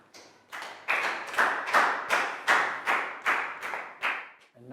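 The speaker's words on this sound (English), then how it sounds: "High five and a big round of applause for Pak Bung." A classroom of Year 3 pupils clapping for a classmate after a math answer, about ten loud, evenly spaced rhythmic claps in unison, close and crisp, with a brief noise at the end.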